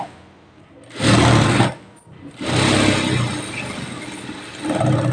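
A sewing machine stitching piping onto fabric runs in bursts, with a fast mechanical chatter that starts, stops briefly and resumes in longer runs, close and fairly loud.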